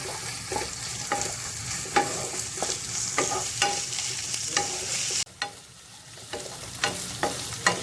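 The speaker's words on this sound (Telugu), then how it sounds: "కొత్తిమీర కూడా వేసుకుని ఫ్రై చేసుకుందాం" Carrot, capsicum, mint and coriander fry in a pan with a continuous close sizzle and repeated stirring scrapes at an uneven rhythm, with a brief dip partway through and no talking.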